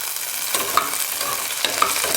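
Beans, potato and cauliflower for a vegetable kurma fry with a loud, steady sizzle in a pan, a spoon scraping and stirring through them a few times.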